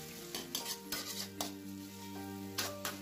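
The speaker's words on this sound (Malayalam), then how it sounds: "ഇനി ഇതൊന്ന് ഇളക്കി കൊടുക്കാം." Masala egg rice stirred in an iron pan, with repeated clinks and scrapes of a metal spoon against the pan over a low sizzle, close by and irregular, with no talking.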